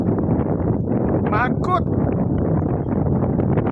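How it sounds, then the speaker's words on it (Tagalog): Cold wind blows steadily and roughly against the microphone outdoors, a constant close buffeting rush with a man's short spoken word breaking through partway. "pinaririnig ko sa inyo yung hangin"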